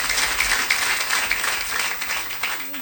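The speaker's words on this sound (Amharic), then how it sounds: "አጨብጭቡ ለጌታ ክብር" A congregation at a church service applauds in a dense, steady wash of many hands clapping that continues throughout.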